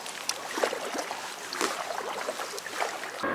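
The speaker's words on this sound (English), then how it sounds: "So I'm just going to basically paddle right across." Someone paddles a small boat across a river at a semi-urban regional park: repeated close splashes and drips of the paddle strokes against a watery background, with no talk.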